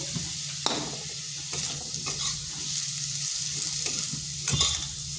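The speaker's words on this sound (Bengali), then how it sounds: "আলুগুলোকে এইভাবে নেড়ে চেড়ে ভেজে নিতে হবে" Potatoes stirred and fried in an oil-filled pan, a steady sizzle under repeated scraping strokes of a spatula against the pan, close and continuous.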